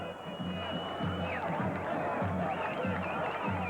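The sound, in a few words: enthusiastic crowds greeting Yasser Arafat in Gaza City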